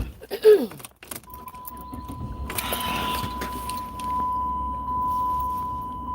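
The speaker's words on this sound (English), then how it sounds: "I'm getting in the car." Someone gets into a car: a brief jangle and rustle at the start, then door and seat movement sounds and a steady electronic tone inside the quiet cabin, close and moderately loud, with no talk.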